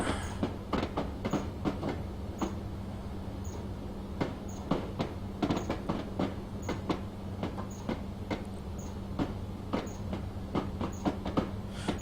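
A Class 303 electric multiple unit in Train Simulator on the Woodhead Line runs steadily with a low motor hum and regular clickety-clack wheel beats over rail joints, loud and continuous throughout.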